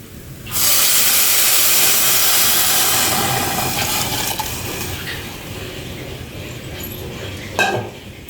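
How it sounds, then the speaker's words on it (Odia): Water poured into a hot pan of ghee-fried rice and moong dal bursts into a loud, steady steaming hiss that slowly fades, with a brief clatter of a utensil near the end. "ଏବେ ଆମେ ପାଣି ଦେବା।"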